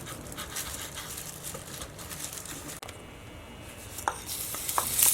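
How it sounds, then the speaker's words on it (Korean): A knife minces salted fermented squid on a cutting board in quick, soft, irregular taps that stay close and faint, with a few sharper knocks near the end, and no one talking. "오징어젓 한 큰술은 잘게 다져 놓아주세요."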